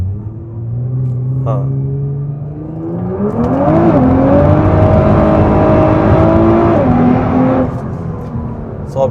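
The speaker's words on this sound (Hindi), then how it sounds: "चले आपको उसका नीचे से ट्रैक्शन ऑफ करके दिखाते हैं कि चारों टायर कैसे स्पिन करती है।" A 2019 Nissan GT-R with traction control off revs up as all four tyres spin, its engine tone climbing and holding a loud, steady whine and rumble for several seconds before easing off, with a brief spoken word near the start.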